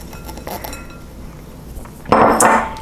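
Diced tomatoes with chili and browned crumbled sausage going into a microwave-safe bowl for a sausage queso dip, with soft clinks of a utensil and a louder scraping clatter near the end.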